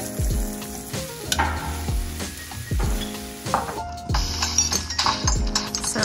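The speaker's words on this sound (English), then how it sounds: "What I'm gonna do now is fry the onions." Onions frying in a pan for gravy, a loud continuous sizzle broken by repeated clinks and scrapes of a utensil against the pan in an uneven stirring rhythm, close up and with no talk.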